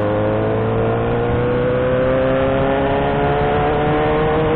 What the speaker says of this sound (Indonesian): Motor ini nggak pakai selincir knalpot, guys. Makanya suaranya bukan lagi renyah ya.